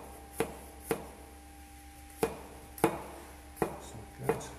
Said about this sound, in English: I'm just gonna take a few slices of ginger.